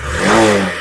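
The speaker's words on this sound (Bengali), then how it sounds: "গাড়ি এখন স্টার্টে রয়েছে খুবই সুন্দর একটা আওয়াজ তোমরা তো শুনতে পাচ্ছ" A BS6 500 motorcycle engine revs close by, its note swelling and then easing back over one short, smooth burst.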